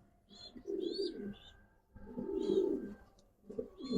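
Pigeons in a loft of highflyer and racing birds coo in low, throaty bursts that come in about three rounds, close and soft, with faint chirps and quiet human voices behind them.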